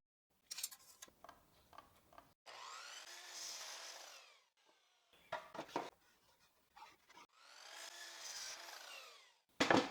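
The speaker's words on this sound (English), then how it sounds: "From here, I'll cut 2 more parts, now with 56 centimeters in length." A hand saw cuts a wooden board for woodworking joinery in two long bursts of rapid, rasping strokes, separated by sharper knocks and clatter of handling the wood.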